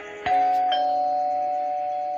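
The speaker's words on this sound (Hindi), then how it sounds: "अरविंद का ध्यान अचानक डोरबेल ने खींचा" A doorbell rings with two bright chimes, the tone ringing out and slowly fading in a quiet room.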